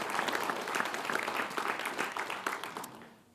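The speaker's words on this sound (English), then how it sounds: "Let's give yourselves a round of applause for making a dream become a reality." An indoor audience at a groundbreaking ceremony for a student-athlete performance center gives a round of applause, a steady patter of many hands clapping that fades out after about three seconds.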